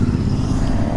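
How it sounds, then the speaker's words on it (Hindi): A group of Royal Enfield GT 650 motorcycles rolls past on the road, their engines a steady, loud, close rumble that fills the brief moment without any talk. "बाइकर गैंग अपनी जा रही है"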